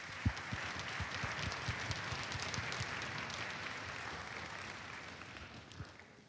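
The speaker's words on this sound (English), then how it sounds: "Let's give them a round of applause as well." Audience applause at a school band concert, a faint, steady wash of clapping from a crowd heard at a distance, sustained for several seconds.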